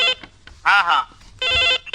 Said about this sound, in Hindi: एठो फोन आते हुले ले ले